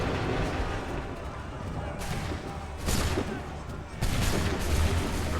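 Musket volleys in Assassin's Creed 3 battle, heavy booming bursts repeating every second or so over a dense roar of combat and gunfire.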